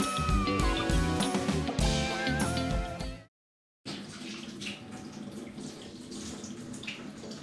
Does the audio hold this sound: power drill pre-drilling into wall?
no